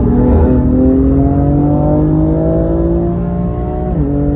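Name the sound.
track-prepared BMW M4 with semi-slick tyres accelerating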